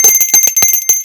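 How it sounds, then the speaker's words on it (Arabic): A notification bell rings in a quick series of bright, metallic dings with a sustained high ring, loud and close. It is heard alone, without talk. "الجرس بتاعنا الجميل عشان يوصلكم مننا كل جديد"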